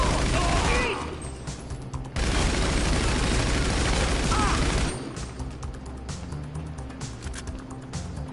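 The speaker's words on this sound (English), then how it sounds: "I have no ammo left in my machine gun or Tommy gun" Machine-gun fire in GTA V during a heist, a loud dense burst of rapid shots in the opening second, then dense gunfire again from about two to five seconds, with quieter game sounds between and after.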